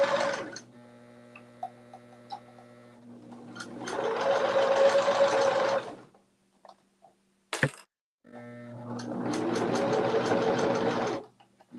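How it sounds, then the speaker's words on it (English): A sewing machine runs in fast bursts of rapid, whirring stitching. Two long runs are separated by pauses with small clicks and a sharp snap, all close and moderately loud with no talk. "I'm speeding up as a sewer, aren't I, Patrice?"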